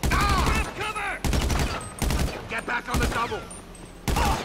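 Loud, close automatic gunfire from GTA 5 comes in repeated bursts of rapid, regular shots, separated by short pauses filled with game voices and effects.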